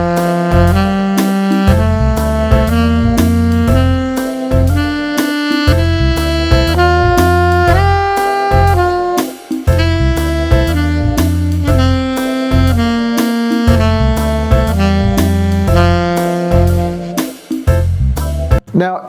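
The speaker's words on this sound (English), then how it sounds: "play the scale straight up and down in time" Saxophone runs a scale straight up and down in strict time, each note held evenly in a clear, close, continuous line with only brief breaths between passes.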